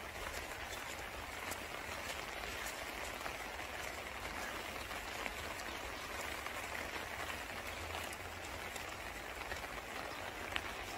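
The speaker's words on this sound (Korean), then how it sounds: "비 온다" Steady rain patters outdoors on a chilly day, a dense, even hiss of drops with no breaks, moderately close and with no voices over it.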